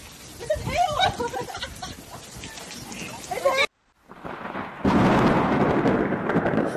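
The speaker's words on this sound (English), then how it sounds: "Oh my God! Check this out! This is hail!" Hail pelts Phoenix streets in a heavy storm, a dense loud roar of impacts with an excited voice talking over it, briefly cutting out before the downpour returns even louder.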